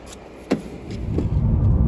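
Someone gets into a car in cold weather: a sharp door thump, a few small clicks and shuffles, then a rising low rumble as the engine and cabin noise build.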